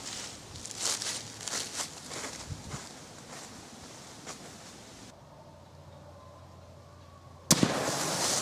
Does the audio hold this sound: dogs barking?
no